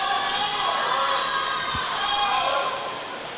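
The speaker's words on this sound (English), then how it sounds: "Fans are on their feet cheering on their swimmers here" A large crowd of fans roars and cheers continuously at a swimming championship inside an aquatic center, loud and sustained, with one brief thump partway through and the noise easing slightly toward the end.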